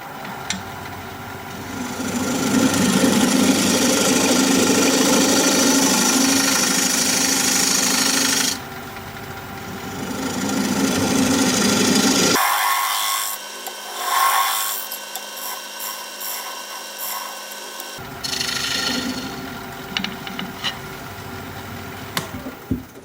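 A wood lathe spins at 750 RPM while a tool cuts a recess into the turning blank, giving a loud, steady scraping and rumbling that cuts out briefly midway, then resumes in rougher, intermittent bursts.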